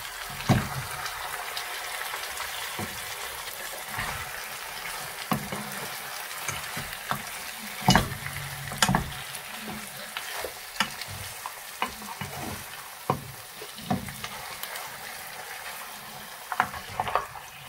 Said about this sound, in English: So we're going to cook it on a high flame for 5-10 minutes and keep stirring it at the same time.